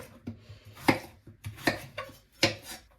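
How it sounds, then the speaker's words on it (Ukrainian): A knife chops peeled potatoes on a cutting board in a series of crisp, separate thuds, roughly one every half second, close and with no speech. "я картоплю очистила і нарізаю на зручні шматочки"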